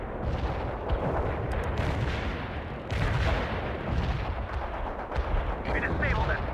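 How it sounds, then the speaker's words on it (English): Artillery barrage in the World in Conflict strategy game: dense, continuous rumbling volleys of blasts and gunfire that roll on steadily at high loudness, with a brief dip before the firing swells again. "Launching a barrage."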